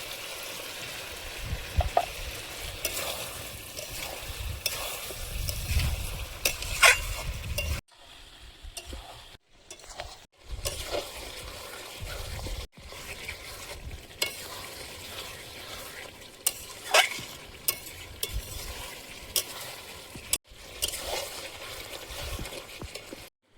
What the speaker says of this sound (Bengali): মাংসটা কষিয়ে নিয়েছি